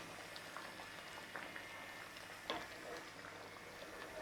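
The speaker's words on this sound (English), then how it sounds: "Give it a stir." Chicken curry bubbles and simmers in a pot, a continuous soft hiss and patter of boiling liquid with a faint scrape of stirring, fairly quiet and with no talking.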